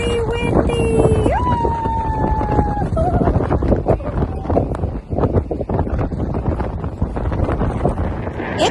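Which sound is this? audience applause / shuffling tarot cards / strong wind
strong wind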